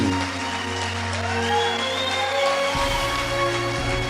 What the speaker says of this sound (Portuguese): Vamos ficar de pé para aplaudir o Senhor Jesus?